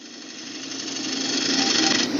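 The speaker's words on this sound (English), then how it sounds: "I'm just using kind of a scraping motion here with my bowl gouge" A bowl gouge scrapes a wooden bowl spinning on a lathe, making a steady, close, rising whir and hiss of cutting wood that builds slightly in loudness, with no talking.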